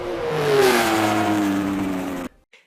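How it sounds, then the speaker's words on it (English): An AI-generated Formula One car speeds down a track, its engine revving loud and close with a rising then falling whine before the sound cuts off abruptly. "From an F1 car shooting down the track"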